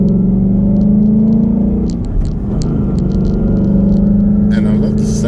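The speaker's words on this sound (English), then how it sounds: "I love the sound of this. This is my first standard shell muscly car, V8" A 2017 Ford Mustang Mach 1 V8 rumbles with a deep, steady idle close by, the drone briefly dipping midway, while a person talks over it.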